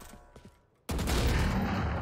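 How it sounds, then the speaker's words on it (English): A flashbang detonating in a Valorant match on the Pearl map: a sudden loud burst that cuts in after quiet rumbling and stays as a dense, sustained ringing wash of noise. "Flashbang!"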